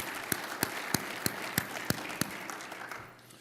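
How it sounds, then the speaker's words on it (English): Applause at a hall of fame ceremony, with a few loud, evenly spaced claps standing out over a softer spread of clapping that thins and fades toward the end. "Give them a round of applause."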